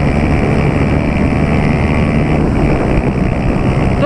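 A Honda Titan 150 motorcycle fitted with a Pro Tork exhaust revs hard, a loud, continuous engine roar with wind buffeting and a slight pitch shift near the end, heard up close with no talking.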